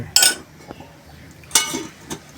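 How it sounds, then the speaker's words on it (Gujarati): A ladle knocks and clinks against a cooking pot while bathua greens bhaji is stirred, two sharp metallic hits with softer scraping between them, close and loud. "આ જે ચીલની ભાજી છે તેને કન્ટિન્યુ આવી રીતે હલાવતા રહેવી પડે છે"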